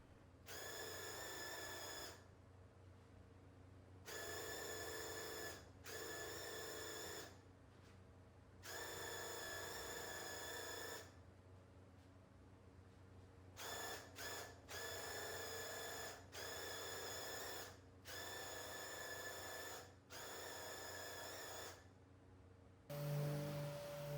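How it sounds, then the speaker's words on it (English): A power sander whirs in repeated bursts of a few seconds each, sanding primer on a dresser, starting and stopping with short pauses, close by and fairly quiet. "Sanding the primer down now."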